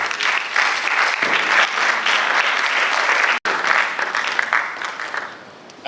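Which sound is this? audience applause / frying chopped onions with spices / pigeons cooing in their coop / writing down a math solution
audience applause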